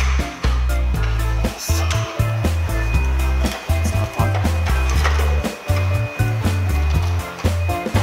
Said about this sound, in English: we place that pot on the cement mortar mixer